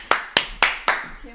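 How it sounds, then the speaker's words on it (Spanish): Four sharp, evenly spaced hand claps ring out close and loud as a guest is introduced on stage, each with a short decaying tail. "¡Fuerte aplauso!"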